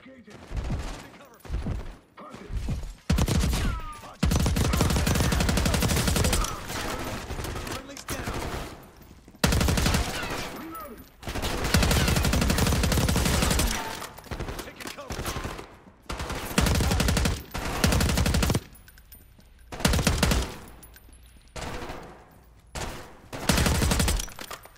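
Gunfire in the Call of Duty Black Ops 6 campaign: bursts of automatic machine-gun fire and single shots come in irregular loud clusters with short quiet gaps between them, and voices are faint underneath.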